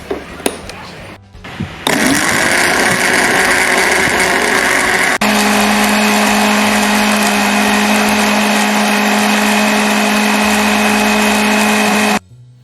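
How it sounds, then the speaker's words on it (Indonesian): A blender shreds pieces of newspaper sprayed with a little water to make pulp for a composite. After a brief clatter it runs as a loud, steady motor whir for about ten seconds, then cuts off abruptly. "masukkan potongan koran ke dalam blender secukupnya"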